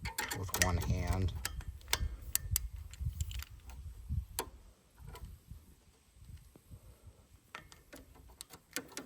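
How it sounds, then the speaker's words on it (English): A torque wrench tightening the injectors on a Massey Ferguson 175/180 diesel tractor gives close metallic ratcheting clicks and snaps in irregular bursts, with a louder clatter near the start, amid quiet workshop handling noise. "I just kind of want to do the final spec with the torque wrench."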